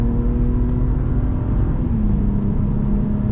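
Car engine at speed on a Nürburgring lap, a loud, steady in-car drone whose pitch holds and then dips slightly, with no voices.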